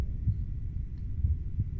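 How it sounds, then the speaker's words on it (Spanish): Heartbeat in the horror video game Fatal Midnight: low, muffled thumps in a slow repeating rhythm over a dark, droning ambience, with no talking. "¿Y por qué escucho un latido del corazón?"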